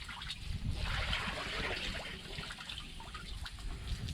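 Running water pours over a freshly harvested chicken during a pre-rinse, a steady, fairly faint splashing flow without a break.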